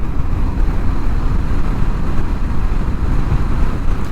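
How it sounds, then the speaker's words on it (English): A 2025 Indian Scout Sixty motorcycle engine rumbles steadily while riding, a continuous low, loud drone mixed with wind buffeting, with no talking. "When I'm riding, I'm hearing this rumbling right now."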